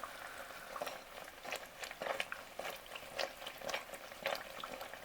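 Walking taco frying in hot grease in a fryer, a steady close bubbling sizzle with crackling pops throughout, no voices over it.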